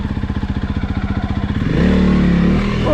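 A Honda CRF300L motorcycle revs hard in first gear off-road, its close, loud engine pulsing rapidly, then rising into a sustained higher-pitched roar as it accelerates.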